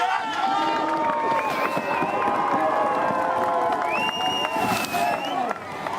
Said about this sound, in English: The crowd cheers him in for a nice casual double backflip.